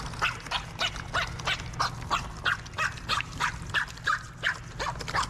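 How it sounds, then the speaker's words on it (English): Stingrays give off a rapid series of short, yappy bark-like calls, about two to three per second, fairly loud and steady over a low constant hum, with no talking. "I had no idea that stingrays could bark like this."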